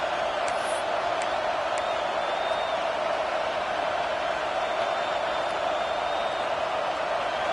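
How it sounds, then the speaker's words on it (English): A home crowd at a college football game roars in a loud, steady wall of cheering that holds for the whole stretch, with an announcer faintly audible underneath. "Man, this crowd really affecting the football game."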